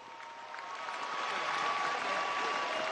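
Applause from a seated crowd at a political youth gathering in Venezuela, a broad dense wash of clapping that swells gradually and holds steady, with a faint tonal hum beneath.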